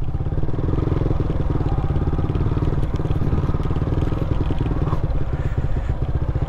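A motorcycle engine chugs steadily and loudly throughout, with scattered clatter and crunching from the ride over rough, soft sand.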